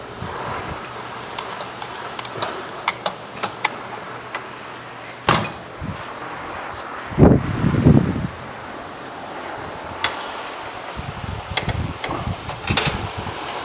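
Gusty outdoor wind buffets the microphone with low rumbling bursts, the strongest surge in the middle, mixed with scattered clicks and knocks from nearby work on a quad.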